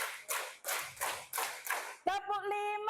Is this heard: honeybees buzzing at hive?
no